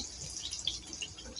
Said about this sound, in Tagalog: Nugasan ng tubig ng ilang beses.